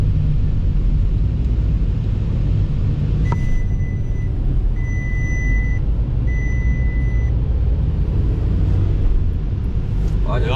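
VW Caddy 1.9 TDI diesel idles with a steady low clatter and rumble after starting, close and constant throughout, while people talk over it and a few high electronic beeps sound briefly.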